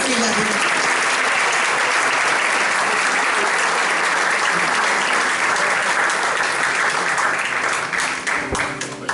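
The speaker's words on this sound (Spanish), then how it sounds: "Den un aplauso al Señor" A church congregation claps together in sustained, dense applause that fills the room loudly at close range before beginning to taper off near the end.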